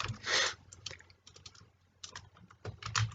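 Quick bursts of keystrokes clatter on a computer keyboard while a database query is entered, irregular clusters of close, crisp taps with short pauses between them.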